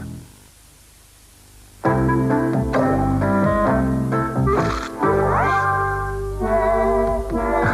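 A cat meows loudly and repeatedly in a long drawn-out, tuneful series of yowls close to the listener after a second of near silence, heard in a television commercial.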